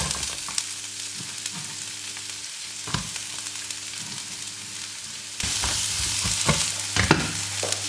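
Garlic and onion fry in olive oil for a zucchini stir-fry, giving a steady close sizzle broken by sharp clicks and scrapes of stirring, which grow louder and busier partway through.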